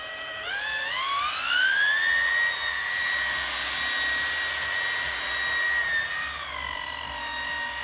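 Rotary polisher running on boat topsides, whining up to speed, holding a loud steady high tone, then winding down near the end, close and alone.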